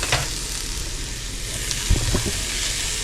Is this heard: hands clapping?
no